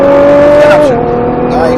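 Nissan GT-R accelerating on a race track, a loud close engine tone holding steady and then dropping in pitch as it shifts, with a voice talking over it.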